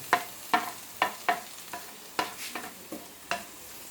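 Leaves, Peperomia pellucida, stir-fried in a pan for thoran, heard as a run of about eight regular scraping stirs of a spoon against the pan over a low background sizzle, close and without talking.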